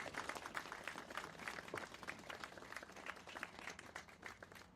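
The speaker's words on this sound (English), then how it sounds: "Let's give him another round of applause." An audience at an outdoor Veterans Day park dedication applauds, steady scattered clapping from a crowd continuing throughout, fairly faint and distant.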